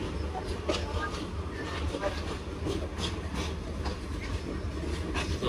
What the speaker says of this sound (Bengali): বড় বাজার রেল স্টেশন থেকে বেরিয়ে যাচ্ছে আন্তর্নগর বিজয় এক্সপ্রেস ট্রেন